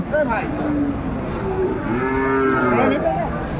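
A cow at a cattle market gives a loud, drawn-out moo twice in a row, close by, with no talk over it.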